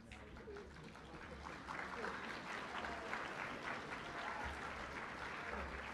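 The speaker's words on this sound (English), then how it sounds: "yep, the clap still works, doesn't it?" An audience claps together in a large hall at the opening session of a national music festival for students, a steady wash of applause with a voice faintly audible beneath it.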